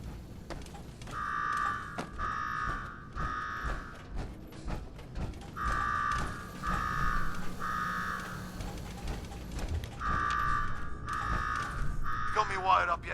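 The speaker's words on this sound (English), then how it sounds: "Now go shut off that damn alarm" An alarm blares in the video game Fallout 4: buzzing tones pulse in groups of three, pause, then repeat over a low mechanical background.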